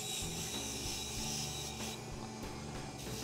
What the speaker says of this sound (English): I'm starting out with a moderately coarse brush. And these are plastic-laden abrasive brushes.